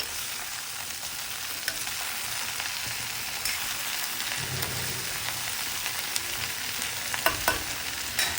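Capsicum cooking under a lid in a pan for chutney gives a steady close broadband sizzle, with a few soft clinks and faint stirring scrapes near the end.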